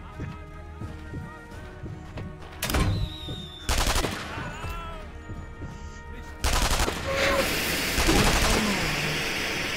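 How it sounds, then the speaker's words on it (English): Video game gunfire, several loud bursts of automatic shots and single cracks arriving in clusters over a busy backdrop of game sounds, with a voice in between. "that son of a bitch is shooting the shit out of me"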